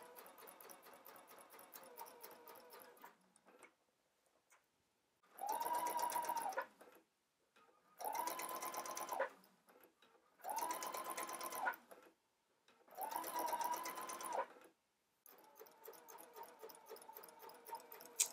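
A home sewing machine stitches bias tape on the Jo Dress skirt in four separate bursts of a steady, rapid motor whir, each lasting about one to two seconds with quiet pauses between. Fainter handling sounds come before and after the bursts.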